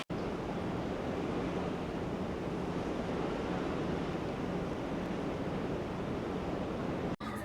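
Broad, steady rush of sea and wind heard from the deck of the Disney Fantasy cruise ship on a calm day, a continuous even wash without distinct wave breaks and no talk.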